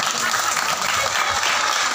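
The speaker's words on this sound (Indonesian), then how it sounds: "Tepuk tangan dulu." An audience at an evening religious gathering in a mosque gives a short burst of steady applause, a dense wash of many hands clapping together.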